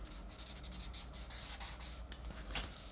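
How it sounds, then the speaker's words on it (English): Pen scratching across paper while notes are jotted down, a soft continuous scribbling texture with faint strokes close by and one brief louder scrape near the end, no talk. "Wait, I gotta write this down."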